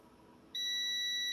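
Faint background hum, then a sustained shrill electronic beep from a continuity tester, used while checking a faulty washing machine that won't spin, starts abruptly and holds steady to the end.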